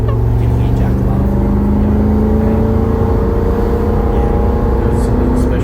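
A newly finished car out on its first drive gives a loud, steady engine drone that slowly climbs in pitch under constant cabin and road noise. Voices talk over it.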